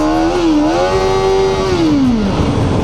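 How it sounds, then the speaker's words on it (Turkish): Kawasaki Ninja ZX-4RR 400 cc sport motorcycle pulling away in sport mode, the engine loud and close as it revs up with a rising, slightly wavering pitch and then drops off as it shifts. "Sport modunda da hemen bir kalkış yaptım."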